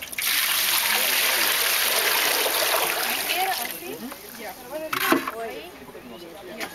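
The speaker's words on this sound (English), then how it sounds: "That's a whirlpool." Water swirls and trickles down in a small whirlpool, a steady close rushing that thins into gurgling and splashing toward the end.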